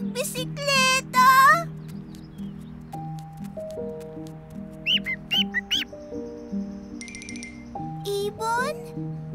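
Cartoon bird chirping in an animated children's story, with short high squeaky chirps in quick bursts over light background music, while children's voices talk around them.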